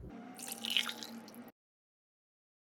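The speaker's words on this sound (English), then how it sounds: "And now using a strainer, I will strain this tea." Green tea poured through a strainer: a close, steady trickle and drip of liquid for about a second and a half, then silence.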